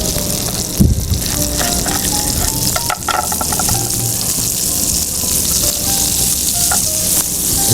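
Butter melts in a hot pan with a steady, close sizzle and crackle, with a few small clinks above the constant frying hiss.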